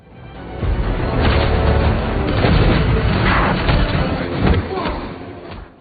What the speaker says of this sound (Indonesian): baku hantam serta baku tembak pun dimulai